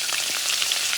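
Garlic mojo sauce with black pepper sizzles in a pan as it is stirred, a close, bright frying crackle held steady for a brief moment.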